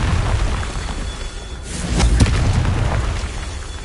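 A Confringo fire-blast spell exploding in Hogwarts Legacy, a short burst of booming noise that swells midway over ongoing rumbling game sound, with no talking.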